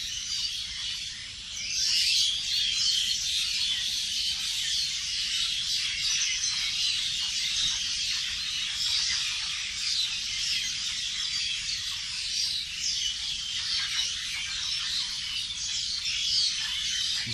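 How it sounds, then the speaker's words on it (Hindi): Constant high chirping of many birds around a green village temple, a busy overlapping chorus with a brief louder burst near the start, sustained evenly with nobody speaking. "दिल को छूने वाला पक्षियों का कोलाहल।"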